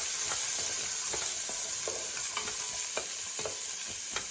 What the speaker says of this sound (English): They're cooking pretty hot in there.